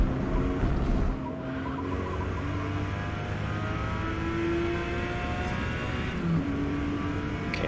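A Porsche Carrera RS races in Forza Motorsport, its engine droning loudly and steadily with gear-change shifts in pitch. A continuous close roar of tyres and exhaust fills the whole stretch.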